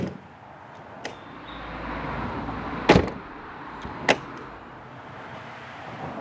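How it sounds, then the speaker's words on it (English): An Aston Martin DB11 V8 bonnet closes, pulled shut by its self-closing mechanism: a soft whirring settle followed by two dull latching thuds, close by in a quiet setting. "one of them is when you close this bonnet"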